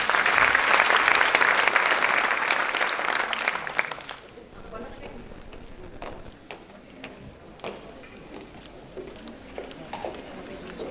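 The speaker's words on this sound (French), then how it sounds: "Mesdames et messieurs, sous vos applaudissements, Leila Doukali." Audience applause welcoming a speaker to the stage at a talk on women's leadership, loud clapping from a crowd for about four seconds, then thinning to scattered claps and footsteps.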